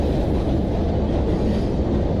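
A train passes with a steady, loud low rumble that stays constant throughout.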